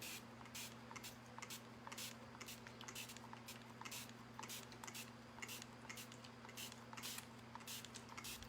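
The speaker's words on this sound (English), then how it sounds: "So I'm going to spritz it first." A spray bottle spritzes water onto a board in a steady run of short, crisp hissing bursts over a faint constant hum, quiet and close, with no talking.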